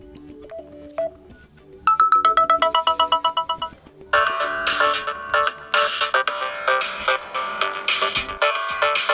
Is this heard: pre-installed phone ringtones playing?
yes